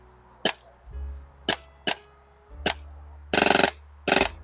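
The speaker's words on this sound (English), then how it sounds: "making the replica go from a loud pop to a more muted thump sound" A Tokyo Marui MP9 airsoft gas blowback replica fires with a muffling cap fitted: sharp single pops and two short rapid bursts, each a muted thump close by, with no talking.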